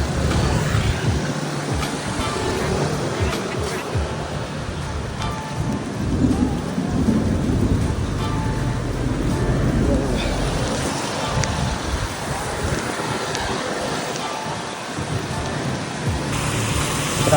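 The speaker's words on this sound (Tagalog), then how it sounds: "inabutan tayo ng ulan. So, nakisilong muna tayo dito." Heavy rain pours down outdoors during a city jog, a dense constant roar of drops on surfaces with deep rumbles of thunder rolling underneath, loud and enveloping from start to finish.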